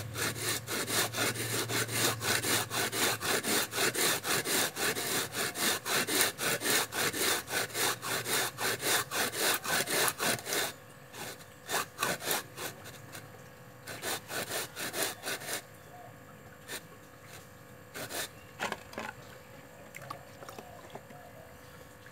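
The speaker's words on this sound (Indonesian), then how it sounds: "kita gosok lagi, kita kasih air lagi." Bricks ground against each other with water, a steady rasping scrape in close, continuous strokes for about ten seconds, then breaking into shorter, intermittent rubs with gaps between them.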